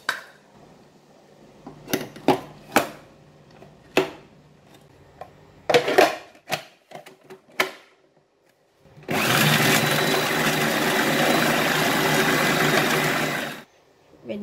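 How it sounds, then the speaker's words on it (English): An electric grinder works through already-minced beef a second time for homemade beef balls: after a few scattered clanks and knocks, a loud, steady motor whir runs for about five seconds, then stops. "When you grind the beef"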